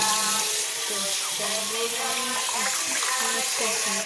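Steady running water at a sink while someone washes, continuous and fairly loud throughout, with a person's voice talking over it.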